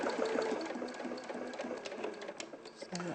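A sewing machine stitches fabric in a continuous close mechanical whir and rapid clatter running through the whole clip, with people talking over it.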